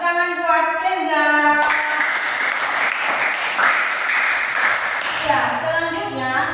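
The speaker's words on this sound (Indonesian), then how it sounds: "tepuk tangan buat Kenza." Classmates in an elementary classroom clap for a student after her group presentation, a burst of close, lively hand clapping that starts abruptly, holds for several seconds, then fades as a voice speaks before and after.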